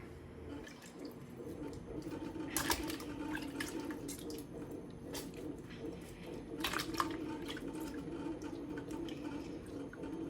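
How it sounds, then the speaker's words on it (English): A lump of homemade butter made from raw milk is dunked and rinsed by hand in a bowl of ice cold water on a homestead in El Salvador, giving soft wet squishing and dripping splashes with a couple of louder sloshes. "ice cold water to rinse the butter out"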